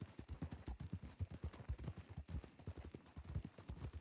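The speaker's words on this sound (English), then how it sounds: "I hear a horse to our left." Horse hooves clip-clop at a steady walking rhythm in a western roleplay video game, moderately close and fairly quiet, with no talk over them.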